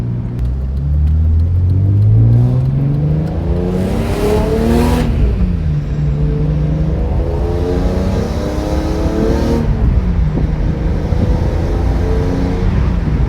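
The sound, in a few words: BMW E46 M3 engine revving during break-in drive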